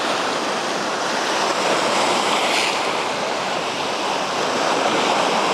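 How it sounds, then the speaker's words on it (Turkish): Steady breezy wind buffets the microphone along the Mersin seaside, a continuous broadband rush with surf-like washing and no pauses or voices. "Hava bayağı esintili."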